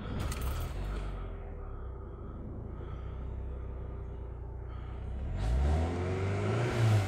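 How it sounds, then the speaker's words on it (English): A Volkswagen car engine idling, then revving up toward 3000 rpm, with a steady low rumble that swells into a rising, louder roar near the end. "now we start the car and rev the engine past 3K four times"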